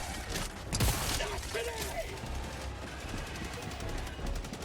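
Rapid gunfire from a heavy-stagger weapon in Helldivers 2 crackles in dense bursts with a mechanical clatter, close and steady over a busy battle backdrop.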